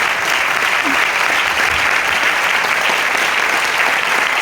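A large audience claps continuously at a Hindi-language coaching class, a dense, steady wash of many hands lasting throughout at high level, with no gaps.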